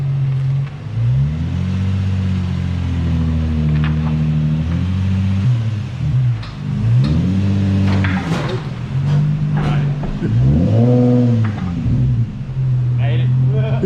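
A Nissan 350Z drift car with its resonator deleted idles and revs in short bursts as it is driven into a garage, loud and close, with voices talking over parts of it.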